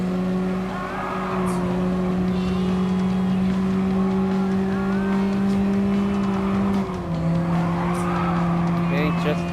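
In Gran Turismo Sport, a lightweight Honda kei car slides through a turn, its engine holding a steady high drone with tire squeal layered on top, and a voice talks over it.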